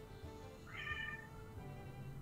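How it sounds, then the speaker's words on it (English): A house cat gives one short, faint meow in the background, rising briefly over a quiet room hum. "That was my cat."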